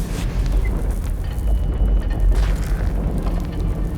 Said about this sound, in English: All it takes is one tiny spark, and boom.